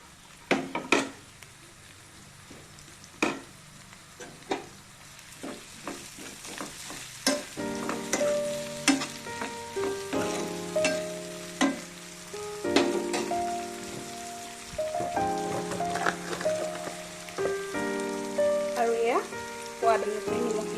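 Chopped capsicum and tomatoes sizzle in a pan for pasta while a spatula stirs them, giving repeated scraping strokes and clinks over a continuous frying hiss.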